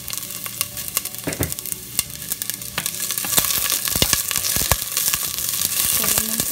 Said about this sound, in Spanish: aquí ya puse mi cazuela con un nadita de aceite, le voy a poner unos pedacitos de cebolla que se acitronen